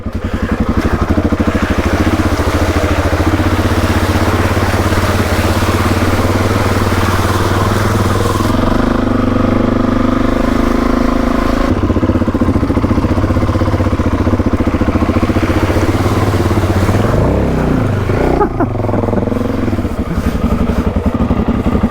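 A dirt bike crosses a creek in the Australian outback, its engine chugging close and loud with rising and falling revs and a clattering drivetrain, and no one speaking over it.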